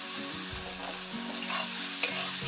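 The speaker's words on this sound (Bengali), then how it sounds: "আলুগুলো কষিয়ে নেব" Chopped potatoes are fried with a spice masala for an egg curry. A steady close sizzle runs throughout, with a couple of scraping stirs and a small clink near the end, and there is no speech.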